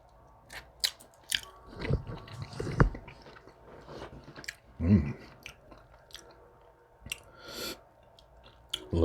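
Someone bites and chews homemade sauced buffalo chicken wings up close, with irregular wet crunches, smacks and clicks spread across several seconds in a quiet room.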